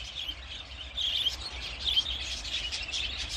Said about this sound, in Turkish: Bahçede muhabbet kuşu bakımı bu şekilde gerçekleştiriliyor.